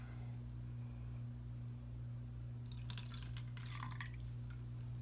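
Water poured into a cup of acrylic paint mixed with olive oil, a short trickling, dripping pour starting midway, close and fairly quiet over a steady low electrical hum.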